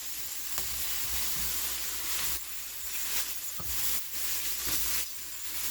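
Onions and peppers sizzle in a hot pan as they cook down, a steady close frying hiss with brief surges and stirring scrapes.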